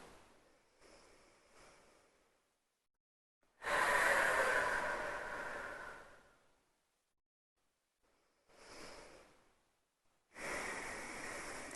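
Slow, deep breaths during a kids yoga session: long airy inhales and exhales alternate with pauses of silence, close and soft.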